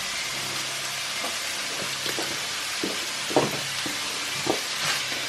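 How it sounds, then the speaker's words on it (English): Beef mince frying in a pan, a constant close sizzle with scattered scraping knocks of a spatula breaking it up, a few sharper clatters standing out, no voices. "okay, this mince is cooking very nicely"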